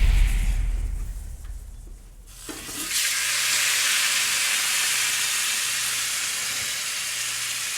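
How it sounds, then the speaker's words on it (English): T-bone steaks that were smoked first, searing in a hot pan indoors, a loud, steady hiss and sizzle starting after a few quieter seconds and holding close and continuous. "let's go inside and sear them up"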